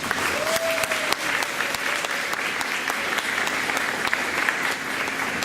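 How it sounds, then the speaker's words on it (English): Audience applause at a school board meeting, a steady crowd of hands clapping for several seconds at an even level, with a brief tone and a few louder claps standing out. "Let's give Aiden a big round of applause."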